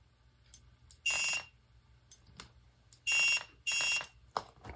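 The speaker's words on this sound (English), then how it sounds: "if you were to remove the cable, the ribbon cable, the alarm would go off" Electronic alarm from a Ghostbusters proton pack prop set off by removing the ribbon cable, sounding as loud shrill bursts: one, then two more close together, with fainter clicks and beeps between them.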